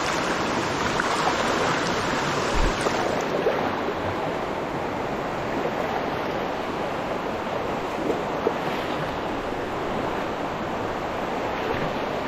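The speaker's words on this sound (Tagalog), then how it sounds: "Ang laking bukal nun ay oh" A large natural spring in Quezon gives a steady, broad rush of flowing water, loud and close, with a faint wind hiss and no voices.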